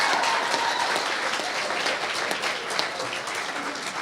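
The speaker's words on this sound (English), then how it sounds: "A big round of applause to you." A roomful of people applauds at a student publication awards night at the University of Southampton, a continuous, fairly soft crowd clapping that holds steady and eases slightly toward the end.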